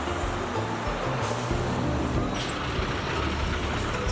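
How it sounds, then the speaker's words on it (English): Steady road traffic on the Costera in Acapulco roars past, a constant wash of engines and tyres with a heavy vehicle rumbling low, no one talking. "the traffic noise on the Costera"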